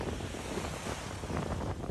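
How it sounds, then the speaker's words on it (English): Rough ocean waves surging near cliffs, a dense, loud wash of surf mixed with heavy wind buffeting the microphone, continuous throughout with no talking. "Look how the waves are coming. Water angry as shit."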